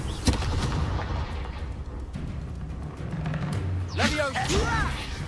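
A Confringo fire spell explodes in a Hogwarts video game: a sharp blast followed by low, rumbling booms, then a character's voice over the lingering battle noise.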